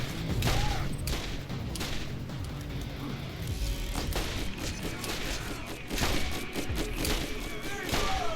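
Rapid gunfire from shooting in the video game Borderlands, bursts of shots and thuds running steadily through the clip at close range, with a voice talking over parts of it.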